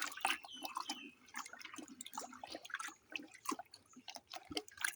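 Fresh cow dung slurry stirred by hand in water for a kitchen garden, giving continuous wet sloshing, dripping and gurgling splashes close by, with no talking.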